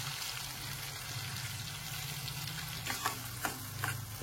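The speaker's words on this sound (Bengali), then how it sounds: "চিংড়ি মাছটা ভাজা হয়ে গেছে, এইবারে দেবো আমি বাটা পালং শাকটা" Fried prawns and ground spinach paste sizzle and fry in a pan, a steady hiss with a low hum beneath and a few clinks of stirring near the end, no talk.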